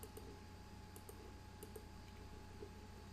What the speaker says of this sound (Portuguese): Se eu clicar no componente de texto, ele me abre esse teclado aqui na tela.